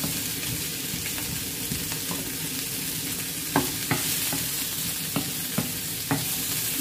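Aromatics sauté in a pan for a chicken soup, giving a steady, close sizzle. A spoon scrapes and taps now and then as the mix is stirred, and no one speaks.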